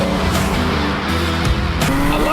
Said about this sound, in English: I love the sound of this thing, man. It sounds like a race car.